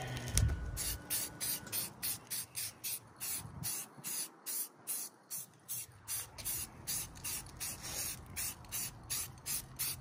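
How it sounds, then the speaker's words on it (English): Spray paint hisses from a can onto an AR-15 rifle in a rapid series of short, evenly spaced bursts, close and fairly quiet, continuing without pause. "committed to painting your rifle"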